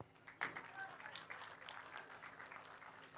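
Graduation ceremony audience clapping in a hall, a sustained wash of many hands that swells after a brief sharp onset and carries on over about three seconds.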